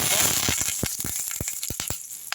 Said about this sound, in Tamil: நான் ஒரு கடாயில் கொஞ்சமாக நல்லெண்ணெய் ஊற்றிக்கினேன் கடுகு போட்டுக்கலாம்